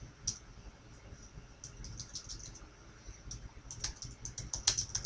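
Computer keyboard typing on a survey setup, with irregular bursts of light clicking keystrokes close by against quiet room tone, growing busier toward the end.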